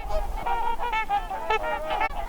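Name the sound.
trumpeter swans calling at wintering refuge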